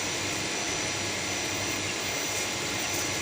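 A repaired water pump motor runs smoothly with a steady, even whirring hum and faster spin, continuous and close with no voices.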